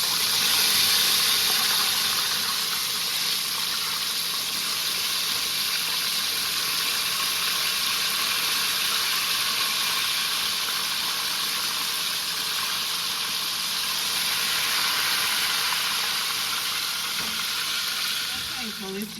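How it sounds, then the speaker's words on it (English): Chicken wings deep fry in hot oil, a loud, steady, close crackling sizzle that runs without a break for the whole stretch and eases a little near the end. "we're going to fry it for 3 minutes"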